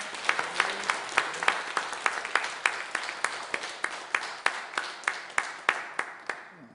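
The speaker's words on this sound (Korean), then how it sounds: "우리 하나님 앞에 한 번 더 크게 영광의 박수 올려드리겠습니다" A church congregation claps together during a Sunday worship service, sharp, evenly spaced rhythmic claps in unison that keep a steady beat and carry through the room for several seconds.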